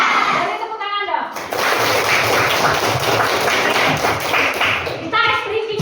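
A group of children in a classroom clapping in unison, a dense burst of hand claps lasting several seconds, with a voice speaking before it begins and again as it ends.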